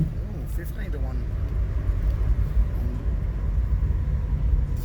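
A car with a 318 engine cruises at three-quarter throttle, giving a steady, close, low rumble of engine and road noise throughout, with a brief voice near the start.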